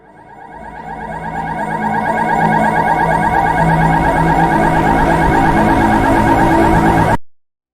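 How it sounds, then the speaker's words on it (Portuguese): Alarms blare in a Kane Pixels Backrooms scene, a loud pulsing electronic wail that swells over the first few seconds, holds steady and echoing, then cuts off abruptly. "O foco da gravação logo muda para a real fonte daqueles alarmes"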